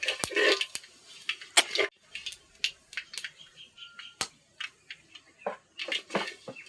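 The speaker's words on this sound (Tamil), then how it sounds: "கடுகு பொரிஞ்சிருச்சு." Mustard seeds and urad dal spluttering in hot oil while tempering for a kuppaimeni greens sambar, a rapid irregular run of sharp pops and crackles, close and fairly loud, with no talk.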